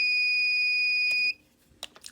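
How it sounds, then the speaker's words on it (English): A steady high-pitched multimeter continuity beep sounds continuously for over a second as the two leads touch, then cuts off, followed by faint clicks and handling noises. "It beeps."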